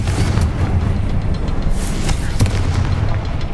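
A Confringo explosion spell in the Hogwarts Legacy video game sounds as a dense, rumbling burst with crackling debris, loud and continuous across the short span with no talking.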